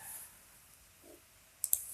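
Two quick, sharp computer mouse clicks close together near the end, crisp and close, with a faint low blip before them while a WordPress user is being created.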